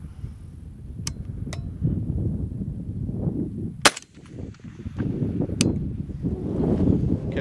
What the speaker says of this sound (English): I'm going to shoot one more time.